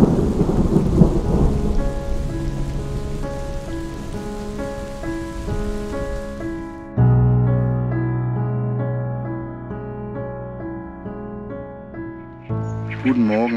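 A night thunderstorm at a small lake during a carp fishing trip brings a dense hiss of rain and a low thunder rumble, loud at first, then steady tonal music takes over.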